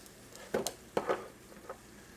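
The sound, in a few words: stirring cheesesteak meat with red peppers in a pan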